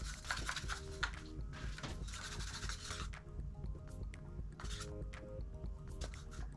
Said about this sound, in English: A little bit of water. Let's give that a mix.